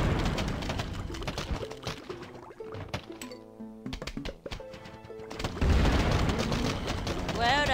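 Gatling Pea firing at zombies in Plants vs Zombies, rapid popping shots and thumps over game music, with a voice talking throughout.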